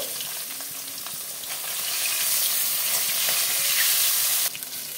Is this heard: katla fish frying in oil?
yes